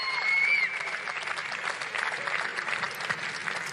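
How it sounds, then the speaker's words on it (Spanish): The Japanese karate team claps from the stands at a competition venue, a moderate, slightly distant round of applause that holds steady throughout, with a thin whistle-like tone at the very start. "Ahora escuchamos al equipo japonés ahí aplaudiendo en las gradas"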